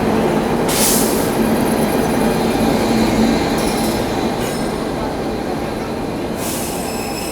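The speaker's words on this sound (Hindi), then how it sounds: "तो ये आ चुकी है अपनी Farakka express. Sealdah WAP7 locomotive के साथ में।" A Farakka Express train hauled by a WAP7 electric locomotive rolls into a station, a steady loud rumble of wheels on rails with occasional high wheel squeals and clattering over the whole stretch.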